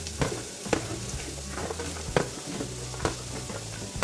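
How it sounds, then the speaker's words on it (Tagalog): Chopped onion frying in a pan for fried rice, with a steady dense sizzle and intermittent scraping stirs from a utensil, close and loud with no voices. "Lagay ko na yung onion."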